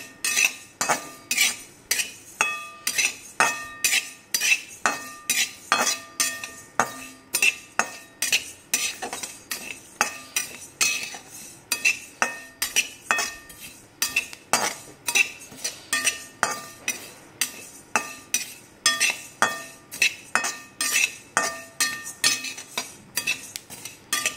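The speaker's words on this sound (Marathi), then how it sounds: "एकदम मंद गॅसवर भाजायचं." An ingredient dry-roasting in a pan on very low gas while a metal spoon stirs it continuously, producing a rhythmic series of clinks and scrapes against the pan at a steady pace, close up, with no talking.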